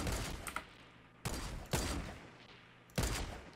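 Sniper rifle shots ring out in Fortnite, about four sharp, loud cracks spaced irregularly, each trailing off in a short echoing decay, with no talking.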